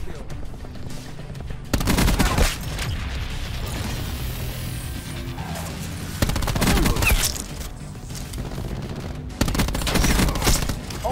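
Rapid bursts of automatic gunfire strafe a Black Ops 4 multiplayer match, loud crackling volleys repeating in several surges with mechanical clatter between them.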